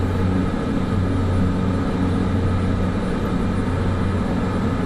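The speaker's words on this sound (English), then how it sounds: "So now flying a Cessna 208 is a bit of a step down in size, really." Cessna 208 Caravan single-engine turboprop flying in Microsoft Flight Simulator 2024, a steady loud drone with strong low engine harmonics and a constant broadband roar, heard alone without talk.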